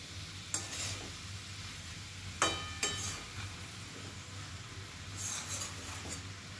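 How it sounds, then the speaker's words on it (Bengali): Fried hilsa fish heads with cabbage being stirred in a pan, with a steady low sizzle and a few sharp scrapes of the spoon against the metal. "এখন এর মধ্যে দিয়ে দেব ভেজে রাখা ইলিশ মাছের মাথাগুলো। এগুলো দিয়েও আরেকটু এদিক ওদিক করে নেব।"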